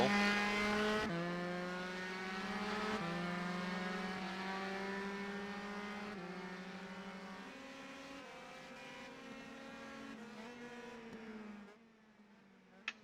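Race cars in an Italian Grand Prix racing video game drive past in a steady stream of engine whine, the pitch stepping up through gear changes before the noise drops away near the end with a small click.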